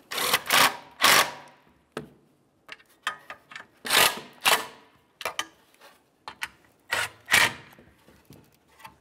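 Bolts snugged down on a damaged exhaust manifold heat shield of a 2012-2018 Nissan, with a run of sharp ratcheting bursts in irregular clusters, close and fairly loud, with no talk.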